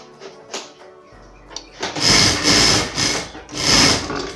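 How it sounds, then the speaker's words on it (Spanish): Sewing machine stitching folded fabric down onto a base cloth while making a welder-style hood, running in two steady bursts of mechanical whirring and needle chatter after softer handling noises at the start. "doblo y voy pegando con la máquina sobre la tela de base."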